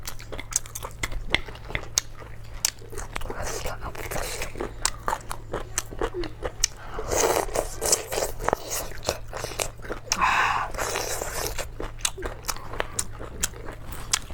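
Someone bites and chews crispy pork close to the microphone, with repeated loud crunches and crackles in an irregular rhythm and an occasional scrape of cutlery, alongside a low background hum.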